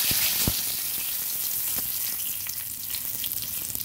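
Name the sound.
whole spices and bay leaf frying in oil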